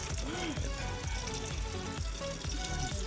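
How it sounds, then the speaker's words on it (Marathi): Whole spices crackle and sizzle in hot oil in a cooking pot in Kolhapur, a busy, continuous frying sound with faint background noise. "बघा किरण खडा मसाला टाकलाय बघा."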